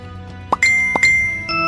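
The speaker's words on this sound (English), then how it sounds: "I need to turn off these notifications" Phone notification sounds, two or three bright chiming tones in quick succession with a ringing tail, loud and close with no talk over them.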